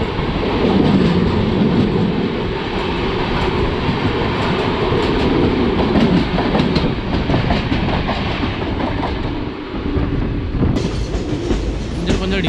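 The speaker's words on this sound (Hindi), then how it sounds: "डिले बड़े हैं पटरियों के, खड़खड़ की आवाज़ आ रही है।" Una Himachal Jan Shatabdi Express rattling over the rail joints, a loud, continuous clatter and rumble heard from on board, the steady rolling noise running throughout without a break.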